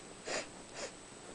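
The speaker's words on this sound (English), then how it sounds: "Why is she sniffing me?" A person sniffs someone up close: two short, quiet, breathy sniffs in quick succession.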